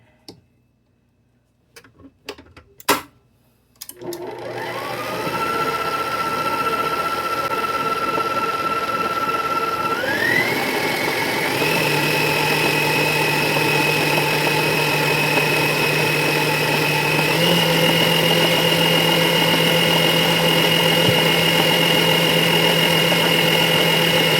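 An electric stand mixer kneading cinnamon roll dough, starting with a few knocks and clicks, then a loud steady motor whine that steps up in speed and runs continuously, with a faint rhythmic ticking.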